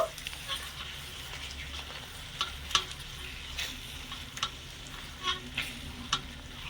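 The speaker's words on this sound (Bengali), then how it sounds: "এবারে মশলাগুলো আমি এই তরমুজের মধ্যে দিয়ে দিচ্ছি ভালো করে নেড়ে ছেড়ে একটু মিশিয়ে নেব" Fried spices being stirred into a sweet-sour-spicy watermelon pickle, a soft continuous sizzle with repeated light scraping strokes at a steady pace, fairly quiet and without talk.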